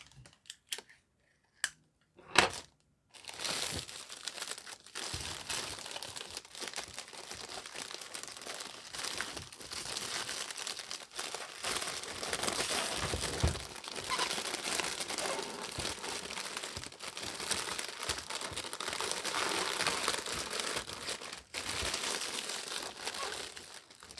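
Cellophane wrap crinkles and rustles while a makeup gift basket is assembled, starting with a few sharp isolated crackles and then becoming a dense, continuous close-up crinkling.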